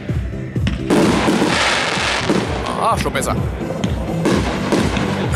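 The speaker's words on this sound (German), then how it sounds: "die Batterie MZ4, 64 Schuss im Kaliber 30 mm" A firework battery, the MZ4 with 64 shots of 30 mm caliber, fires a rapid run of crackling bursts and pops close by, with someone speaking briefly over the barrage.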